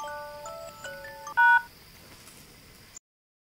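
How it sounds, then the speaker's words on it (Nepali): A phone in a Nepali comedy scene sounds a short electronic tone melody, a few bright beeps then a louder burst, close and clear with no talk over it. "ए फेरि कुनको फोन आयो, हे भगवान्।"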